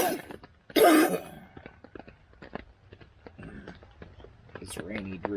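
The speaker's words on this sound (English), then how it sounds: "This rainy, dreary weather's got my cough." A single loud, harsh cough, close to the microphone, during cold, rainy weather inside a camping tent set up in a backyard. Quiet talk and small handling sounds come before and after it.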